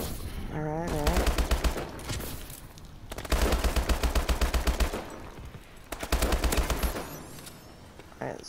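Video game gunfire during a gun game match comes in three separate rapid bursts of close shots, with short pauses between them and a voice talking over the action.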